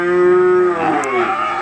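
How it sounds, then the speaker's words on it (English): An Angus cow moos loudly and close by at a cattle sale yard where calves still on their mothers are being sold, one long drawn-out lowing call that wavers and fades, with no talk over it. "These cattle are still on their mothers and will be weaned on delivery."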